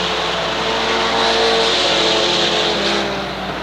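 Mini stock race cars roaring around the Waterford Speedbowl oval during a 1993 feature, a loud, continuous blend of engines at speed that swells slightly in the middle before easing off.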